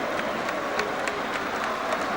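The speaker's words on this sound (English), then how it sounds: "the crowd are just standing and clapping, standing up everywhere" A boxing crowd standing around the ring claps and applauds after the fight, a dense continuous patter of hands that stays steady and fairly loud.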